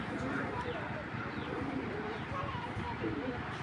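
Breeding pigeons coo and murmur in soft, low, repeated calls at close range throughout, with people talking faintly underneath.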